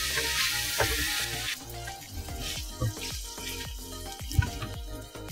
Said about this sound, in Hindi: ये मसाला हम अच्छी तरह भून लेंगे।